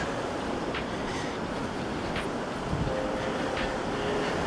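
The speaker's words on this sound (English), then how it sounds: "We're going to be a bit breezy around here." Strong wind gusts steadily across the open Deck 8 of P&O cruise ship Arvia near the bow. The roar is loud and unbroken and fills the whole clip.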